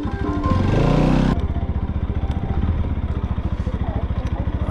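A motorcycle engine idles close by with a rapid, even putter, preceded by a brief louder rev and clatter as the bike is brought in to park.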